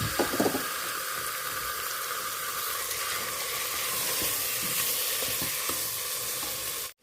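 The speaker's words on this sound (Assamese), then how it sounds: "এতিয়া মই মাংসখিনি ল' টু হাই ফ্লেমত ভাজি কৰি থাকিম" Marinated mutton frying in oil with spices and red chilli powder over a flame, giving a continuous loud hiss and crackle that holds steady right up close, with no voices, before stopping abruptly at the end.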